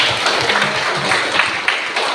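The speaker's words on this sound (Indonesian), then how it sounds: "Tepuk tangan untuk Rivaldo." Classroom applause from students during a teaching session, a short burst of scattered hand claps filling the room at close range, with faint voices underneath.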